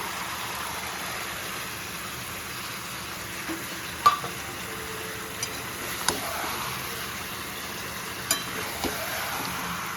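Ginger and green chili paste frying with desi chicken in a village-style pot makes a soft, steady sizzle, with a few light stirring clicks and taps scattered through it, close but fairly quiet.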